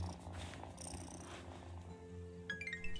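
A cat purring in the video game Wylde Flowers, a steady low rumble under soft game music, with a few bright chime notes near the end.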